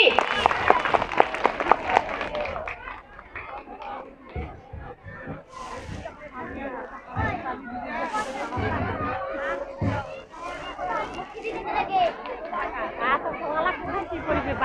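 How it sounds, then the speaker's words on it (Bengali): Audience clapping at a school prize-giving ceremony: a dense burst of many hands in the opening seconds, then fading into steady crowd chatter and murmur from a large gathering. "সবাই জোরে হাততালি।"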